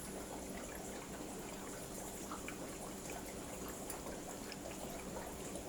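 Fresh water pours steadily into an aquarium system, a faint, even hiss of trickling and splashing that runs unbroken and alone.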